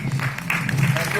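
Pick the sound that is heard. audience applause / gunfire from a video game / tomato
audience applause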